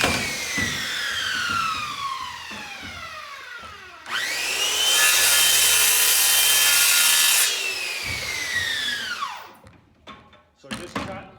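A handsaw cuts through wood on a pocket door kit, first with rapid rasping strokes, then a long sustained grinding cut that rings loudly, ending with a few knocks and clunks.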